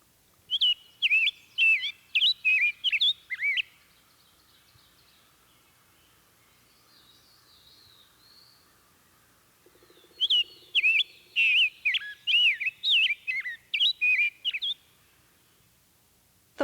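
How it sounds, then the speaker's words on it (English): A rose-breasted grosbeak sings its rich, slurred, whistled song in two long bursts of quick phrases, clear and fairly close, with a quiet pause and faint background between them. "the rich, slurred, whistling song of the rose-breasted grosbeak"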